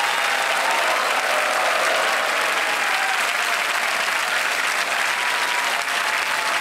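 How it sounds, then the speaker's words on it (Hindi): A television quiz show studio audience on Kaun Banega Crorepati bursts into loud, dense, continuous applause with cheering, filling the whole stretch without a break. "तालियां और शोर मचता रहा क्योंकि चेक आ गया इनके नाम"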